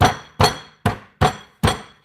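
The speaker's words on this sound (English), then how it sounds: "you just need to hammer them." A hammer pounds a lobster shell wrapped in a cloth, five sharp, evenly spaced blows about half a second apart, close and loud, each with a short cracking ring.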